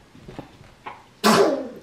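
A single sharp sneeze bursts out close and loud indoors after a few soft breathy intakes.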